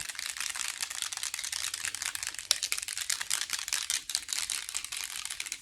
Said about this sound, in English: we're going to shake your setting spray again